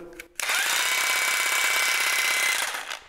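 A jigsaw motor on a woodworking bench switches on abruptly and runs at a single fixed speed, a loud steady high whine with rattling blade buzz, then winds down as it is switched off near the end.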